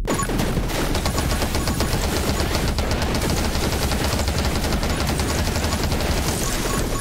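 Rapid, continuous projectile gunfire from the video game 20 Minutes Till Dawn on the Temple map, loud and dense throughout with no pauses, a steady stream of shots layered into a constant barrage.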